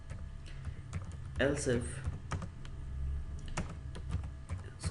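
Keys clatter on a computer keyboard while entering Excel VBA macro code, a string of quick, fairly close clicks spread across the clip, with someone briefly speaking over the typing.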